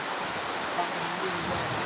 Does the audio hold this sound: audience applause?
no